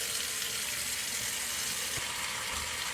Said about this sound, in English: Now we're going to fill our bowl up with cold water